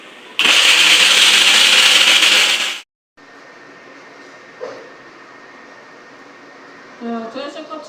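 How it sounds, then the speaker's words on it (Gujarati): A kitchen mixer grinder blends tomatoes, fenugreek and coriander into a green gravy. It whirs loudly and harshly for about two and a half seconds, then stops abruptly, leaving quiet room sound and a few faint knocks. "મિક્સર ચાલુ કરી લઈએ"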